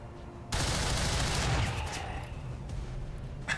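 Gunfire in XCOM 2 erupts abruptly after a brief pause, a dense sustained volley that stays loud, then tails off into rumbling echoes.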